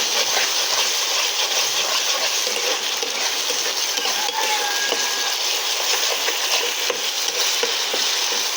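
Chicken sizzles and fries steadily with red chillies in a hot pan, being stirred, with a continuous bright hiss and no voices.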